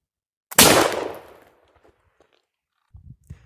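A single loud black powder shot from a muzzleloader firing a .54 caliber slug at a target about 20 yards away, a sharp blast decaying over a second, followed by faint footsteps and small knocks.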